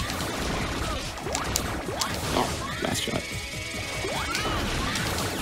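Blocks smashed by a mix of charge shots and regular shots in the video game Mega Man Powered Up: rapid clattering crashes, mechanical clicks and zapping sweeps in quick succession over dense game sound, steady and loud.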